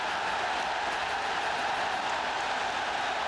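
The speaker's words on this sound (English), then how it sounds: "And the crowd have truly gone bananas." A football stadium crowd roars after a Republic of Ireland goal by Ronnie Whelan against Northern Ireland in 1989, a dense, continuous wall of cheering with no breaks, loud and distant-sounding.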